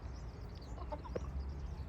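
Young roosters cluck softly over a low steady background hum, a few short calls scattered across the moment.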